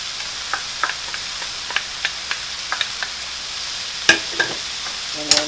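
Mushrooms frying in a pan, cooked down until the liquid is gone, give a steady soft sizzle with occasional light clicks and pops as they are stirred.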